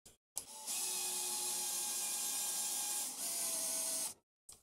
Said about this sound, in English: Now, we'll drill our super precise.